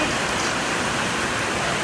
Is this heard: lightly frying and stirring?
no